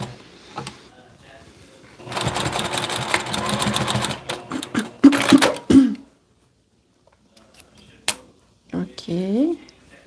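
A sewing machine restitches a small seam in a run of rapid mechanical stitching of about two seconds, followed by short bursts and handling clicks. A person speaks near the end.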